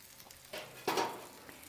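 Bacon and pork tenderloin sizzle on a Cobb grill, a soft crackling fry that swells briefly when the meat is turned, close and quiet with no talk.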